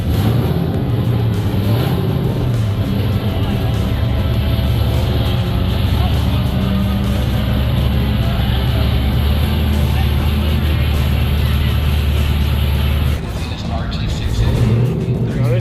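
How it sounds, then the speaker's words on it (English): Drift car engine in a race paddock, giving a loud, continuous motor roar with a dip near the end while a person talks over it. "One hell of a drift car here."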